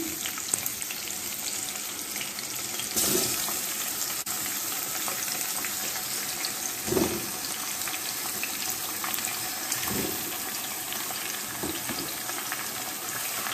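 Potatoes fry in hot oil in a pan, giving a continuous loud sizzle with a few brief surges as they are stirred, and no voices.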